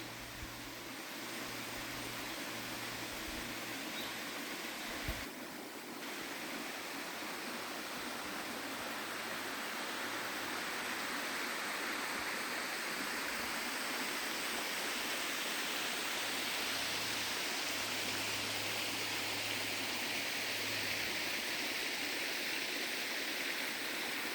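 A small stream runs through farmland in Idukki, a steady, even rush of flowing water with no break, heard fairly close and alone.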